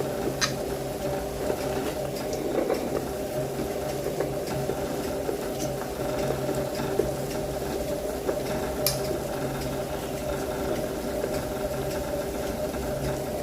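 A mixer grinder spins grated coconut to release its milk, making a steady, continuous mid-pitched motor whir with a faint rattle that runs unbroken for the whole stretch.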